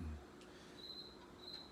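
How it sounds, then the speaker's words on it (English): Crickets chirp faintly at night near the Cape Cod shore, a thin high trill repeating in short bursts over a quiet, steady background hiss. "Crickets, that's funny."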